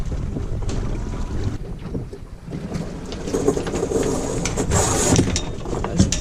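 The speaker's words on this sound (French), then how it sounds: "Et les voiles, flap." On a Mini Transat racing sailboat, the Argonaute 857, slack sails flap and rustle in near-calm air at about three knots, with irregular soft flutters over steady wind noise and boat creaks and no voices.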